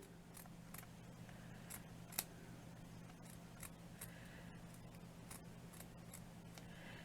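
Scissors snip repeatedly, cutting around a handmade rustic fabric flower, with a steady series of short, crisp, close-up cuts over a low constant hum.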